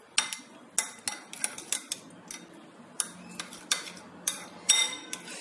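A spoon stirs yogurt thinned with water, salt and finely chopped onions in a bowl, making a series of close, irregular clinks and scrapes against the dish, with no talking.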